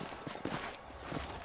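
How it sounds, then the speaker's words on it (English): Horse hooves in Red Dead Redemption give a quick, close, soft clip-clop of several steps over a steady background hum. "I got the horses saddled up and ready out front."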